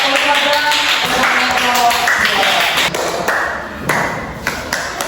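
A fifth-grade primary school class bursts into a dense round of applause, many small hands clapping at once in a lively, close wash that thins slightly toward the end, with some voices mixed in.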